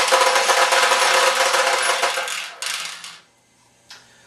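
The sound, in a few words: pachinko balls jamming in Nishijin pachinko machine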